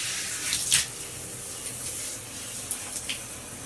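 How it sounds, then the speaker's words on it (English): Tap water runs steadily while rubber gloves are rinsed under it during shower cleaning, a constant close hiss with small splashes and no voices. "Going to rinse off my gloves as well."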